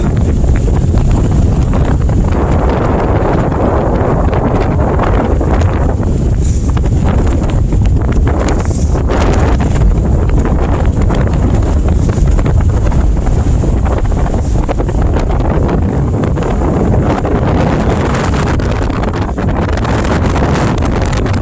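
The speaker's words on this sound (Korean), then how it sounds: "아, 지금 바람 엄청나게 불고 있습니다." Strong, cold March wind blasts across a lotus-pond fishing spot in Seosan, South Korea, during snowfall, roaring loud and unbroken against the microphone with a gusty, buffeting rush throughout.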